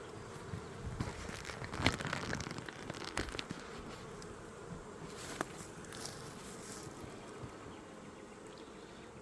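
Honey bees buzzing inside an opened hive during an inspection, a dense quiet drone with occasional rustles and light knocks of frames nearby, no talking.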